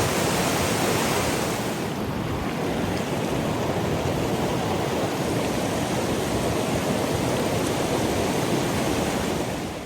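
Mountain river water rushing steadily along the bank on a Himalayan trek to Pin Bhaba Pass, a loud, continuous broadband roar with no break or talk over it.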